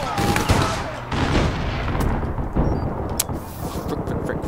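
Sniper rifle fire in the online shooter APB Reloaded: loud, sharp shots crack over a dense, continuous layer of other gunfire and game noise, with several distinct blasts spread across the moment.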